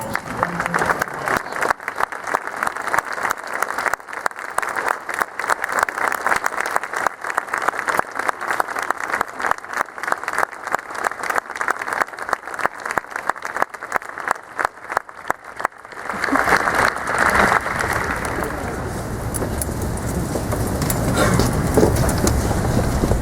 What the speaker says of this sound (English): Please stand and give Governor Perdue a round of applause.